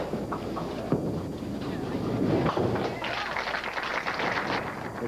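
A duckpin bowling ball rolls and crashes into pins at a 1992 amateur tournament in a bowling hall, a clattering thump and scatter of wooden pins amid hall ambience, with a commentator speaking.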